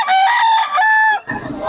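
Chickens crow loudly and close by, with a long rooster call followed by a short lower cluck, and no talking.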